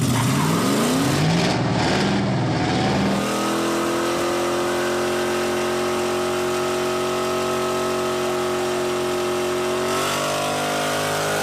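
A car engine with mufflers revs up hard, then settles into a loud, steady droning rumble that holds for several seconds before shifting pitch near the end.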